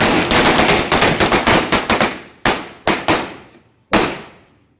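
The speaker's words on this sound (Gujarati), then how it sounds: "હવે આપણે ફેમિલીમાં ફટાકડા ફોડવાના છે" Diwali firecrackers burst in a village in a rapid crackling string of sharp bangs, then a few separate loud pops with short pauses between, close and very loud.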